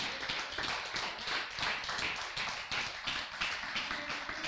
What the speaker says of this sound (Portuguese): aplaude ao nome do Senhor